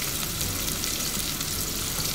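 Garlic, onion and ginger sizzle steadily in a frying pan, a continuous close hiss of frying with faint stirring underneath.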